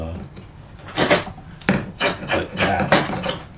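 A chisel paring wood from the end of a tenon: several rasping, scraping strokes in an irregular rhythm, close and distinct with quiet pauses between cuts.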